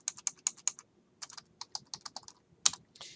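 Fingers typing on a computer keyboard, a quick run of crisp close keystrokes, a short pause, then another irregular burst ending in one harder key press, with no voices.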